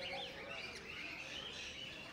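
Birds chirp at Alipore Zoo in Kolkata, a faint, busy mix of high tweets and calls heard at a distance against soft outdoor background noise.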